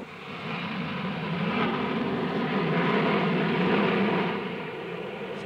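Steady, loud cabin roar of an airliner descending at altitude, a broad engine and airflow drone with a slight swell in the middle and no talk.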